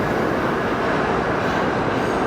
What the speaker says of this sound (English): And I just stood right next to a subway.